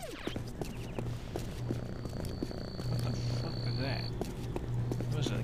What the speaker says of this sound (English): A cat? I picked up a cat?